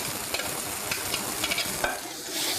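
Half-cooked peas frying in hot light soy oil, a dense close sizzle with stirring scrapes throughout.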